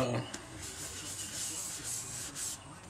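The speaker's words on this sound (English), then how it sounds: "it's hard to sand by hand because this thing will beat you coming around and around and around" Sandpaper rubs steadily by hand against a spinning pecan wood turning on a lathe, a continuous close, hissing abrasion with slight rhythmic swells as the piece rotates.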